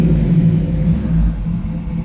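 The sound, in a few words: 1968 Camaro V8 engine accelerating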